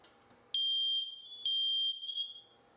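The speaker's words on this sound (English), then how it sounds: "be sure to check your smoke detectors at least once a month" A smoke detector sounds two loud, piercing electronic beeps, each lasting close to a second, separated by a short gap in an otherwise quiet room.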